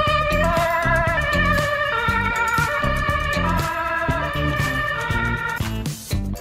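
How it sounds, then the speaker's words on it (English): Ambulance siren racing past during a live TV broadcast, a loud alternating wail pulsing steadily and blended with a strong rhythmic musical backing. "This female broadcaster's segment was unexpectedly cut off by an ambulance racing by."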